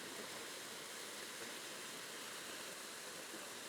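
Water from a fire hydrant rushes through a flowmeter with an even, hissing broadband roar, constant in level across a few seconds and with no voices over it.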